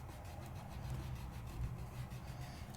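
An adhesive rub-on transfer is rubbed onto paper, giving a steady, close scratchy rasp made of quick back-and-forth strokes that repeat evenly for a few seconds, heard alone.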